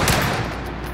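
Gunfire in a multiplayer shooter video game with M1 Garand and AS44 rifles, a loud, dense burst of rapid shots at close range, alone.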